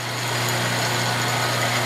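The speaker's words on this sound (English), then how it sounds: "I'm going to drill right through" A CNC machine drilling through aluminum into a pallet, with cutting fluid, gives a steady high-pitched whine with a constant hum, loud and unbroken throughout.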